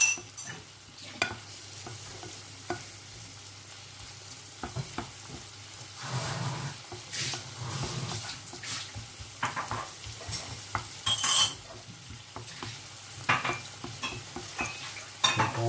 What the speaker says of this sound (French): On fait revenir tout le temps avec la petite spatule comme ça.